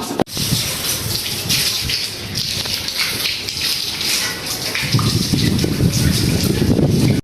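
Water gushes from a pipe over a bicycle after an off-road ride, a loud, steady splashing spray that goes on without a break and grows heavier near the end.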